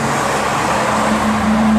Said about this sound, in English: Typical of me to try to vlog in peak hour traffic.